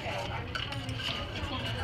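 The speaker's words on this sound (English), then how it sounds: "we're gonna add in the cocoa powder and start whisking it" Cocoa powder being whisked into a warm milk and butter mixture for lamingtons, a steady scraping stir against a pot, continuous and close, with faint clinks of the whisk.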